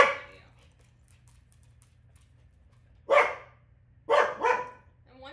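A dog barks indoors during a calm yoga class: one sharp bark, then a pair of quick barks a second later, fairly close and loud against a quiet background.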